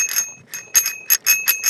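A bicycle bell rings clearly and close up in a quick run of bright metallic dings, some doubled, with short gaps between bursts and no other sound.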